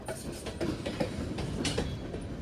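A CSX freight train rolls past on rails near Livonia, Louisiana, a steady rumble with faint clickety-clack wheel beats, moderately loud and continuous with no voices.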